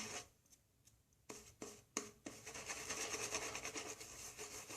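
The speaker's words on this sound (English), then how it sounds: "just begin to face lather, and you'll hear that this sounds light and sudsy" Shaving soap lather being built on the face with a brush, heard close up as light, sudsy, bubbly swishing and rubbing that starts in short strokes and then becomes continuous and fuller.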